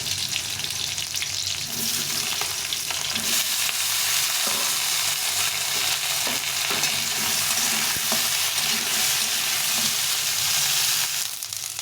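Chopped eggplant and radish with green chillies fry in hot oil, giving a steady, loud sizzle throughout with faint stirring scrapes and no voices.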